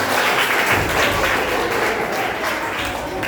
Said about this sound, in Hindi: ताली बजाइए, यहाँ पे बहुत करते हैं।